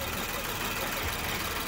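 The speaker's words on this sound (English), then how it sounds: "the V6 twin power turbo engine. The vroom vroom." Twin-turbo V6 engine of a 2017 Infiniti Q50 Sport running steadily, a dense even rumble with broad noise throughout, close and continuous for under two seconds.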